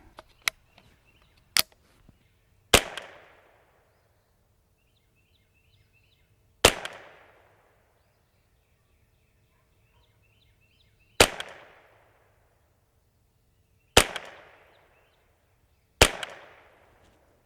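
Shots from a JPRFX semi-automatic .22LR rifle at a bench rest, several sharp cracks spaced seconds apart, each trailing a short echo, with faint birdsong between them.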